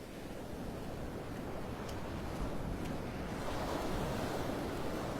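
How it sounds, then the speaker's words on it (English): Ocean waves breaking on a beach on a stormy summer morning: a continuous wash of surf mixed with wind, swelling slightly louder toward the end, with no talking. "Say it takes like 10, 12 waves and that big one comes in."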